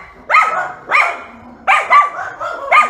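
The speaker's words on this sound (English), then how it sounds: "My dog's barking at everybody." A dog barks close and loud in a quick series of about six sharp barks, some in pairs, with short pauses between them and no talking.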